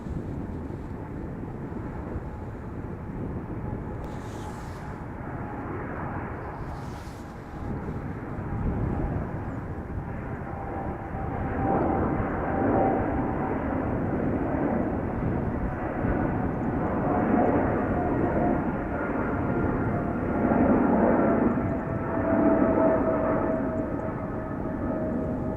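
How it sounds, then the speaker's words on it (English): An Emirates Boeing 777-300 jet departs Amsterdam Schiphol Airport, a broad roar that swells after a few seconds and holds loud and close, with a faint steady whine running through it. "Emirates off to Dubai, 777-300"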